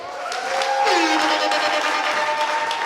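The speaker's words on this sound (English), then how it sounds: "Can I get a round of applause for that?" Audience at an award ceremony clapping and cheering, a dense steady wash of applause that swells after a quiet start, with a tonal music line running underneath.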